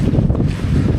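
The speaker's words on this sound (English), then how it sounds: "today that north wind is absolutely blowing a hoolie" Strong north wind blowing through a Scottish glen, a loud, continuous roaring buffet across the microphone, low and rumbling for the whole second.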